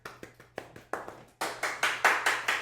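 A small handful of people clap at a home livestream, starting as sparse scattered claps and then growing into a brief burst of louder, faster applause, fairly close and with no talk over it.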